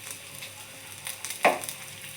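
Coriander seeds and cumin frying in a pan, a soft steady sizzle with a few scraping stirs and one sharper clack near the middle, close and quiet, with no voices.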